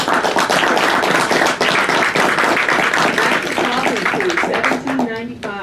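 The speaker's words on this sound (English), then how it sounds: "I'd love to give Mr. Huffman and his staff a wonderful round of applause" A sustained round of applause from a seated audience at a Pennsylvania club awards ceremony, dense clapping throughout with a few voices speaking over it near the end.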